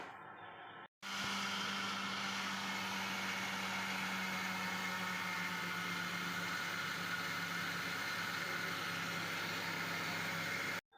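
A kitchen blender grinds soaked rice and lentils with water for chapti batter, a loud steady whirring roar that starts abruptly after a brief pause and runs continuously close up.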